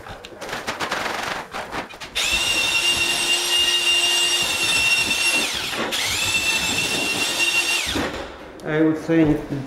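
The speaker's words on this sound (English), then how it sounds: "Take your drill." A power drill whirs loudly for several seconds, pausing briefly and starting again, with a short voice at the end, during concrete floor leveling work.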